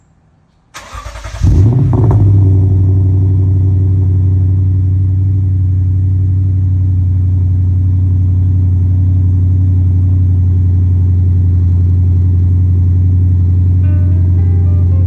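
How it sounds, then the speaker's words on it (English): Cold start of a Lexus IS 500 V8 with an A'PEXi N1 Titanium exhaust: a sharp starter catch, then a brief flare and a loud, steady, deep idle rumble that holds for over twelve seconds without any talk. "It's just a smooth, elegant, confident V8 growl."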